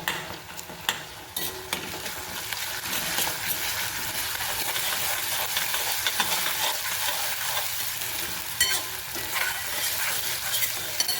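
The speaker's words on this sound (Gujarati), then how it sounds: "હવે એ પણ તેલમાં સંતળાઈ જાય." Ginger, green chili and garlic paste sautés in hot oil for a cluster bean and potato dish, giving a steady, moderately loud sizzle with occasional stirring scrapes.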